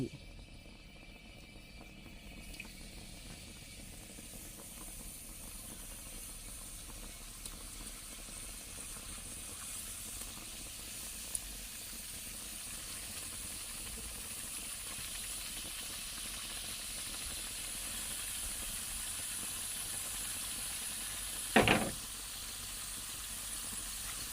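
Steady hissing sizzle of batter in a hot pan, cooking Thai krob khem, runs throughout, with a brief sharper crackle near the end.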